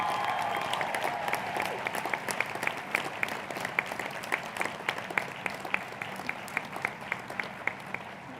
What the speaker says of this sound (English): let's give a loud round of applause to ourselves